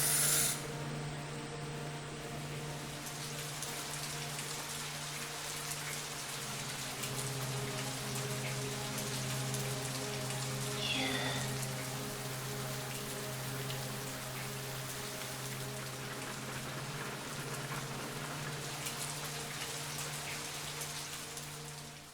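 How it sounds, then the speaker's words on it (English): Steady rain falls in the Japanese horror game Fatal Frame Zero: Voice of the Tattoo, a soft, even wash of drops held at low volume under a faint constant hum. "It's a super rainy day, just like the day they were in the crash."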